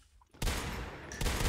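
Gunfire in the video game Natural Selection 2 on the ns2_gash map, a sudden dense burst of rapid shots that starts after a brief quiet and keeps hammering, then swells again near the end.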